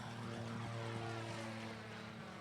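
A Zlin propeller airplane takes off, its engine drone a steady, distant hum with a sustained low tone, fairly faint and unbroken.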